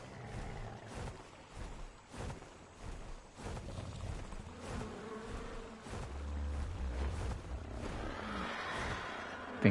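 A bug in Ark Survival Ascended drones with a bee-like buzz over a wavering, watery ambient bed, fluctuating in loudness and ending with a brief louder burst.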